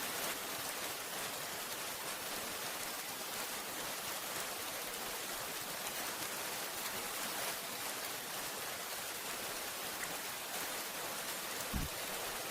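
Steady, dense rain falls through the night around a hut, an even hiss of drops with no pauses, one faint low thump near the end.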